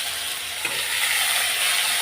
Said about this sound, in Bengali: এখন আমি আলুগুলোও দিয়ে দেবো একসাথেই ভাজা ভাজা হয়ে যাবে